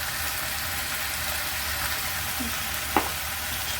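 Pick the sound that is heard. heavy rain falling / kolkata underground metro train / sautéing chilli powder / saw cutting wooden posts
sautéing chilli powder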